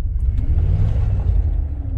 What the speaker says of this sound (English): It's shaking. Yeah, it's not running the best.